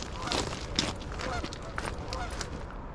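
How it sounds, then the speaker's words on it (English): Geese honk in scattered calls outdoors over a steady background rumble, with no talking. "let's leave those geese alone."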